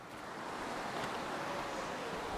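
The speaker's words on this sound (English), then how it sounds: "I can hear the river" A fast-flowing river rushes nearby along a wooded path in Kazakhstan, a steady broadband wash of water with some wind noise, continuous and fairly loud throughout with no voices.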